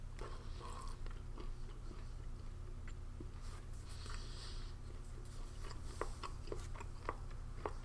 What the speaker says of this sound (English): Make a compressed cereal bar out of mostly nuts. Because wow, is that freaking hard to chew.